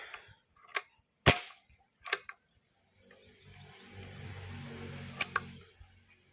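Airgun shots fired at a target 40 meters away, heard as a handful of sharp, isolated cracks with short gaps between them, one especially loud snap, and a low rumbling background swelling near the end.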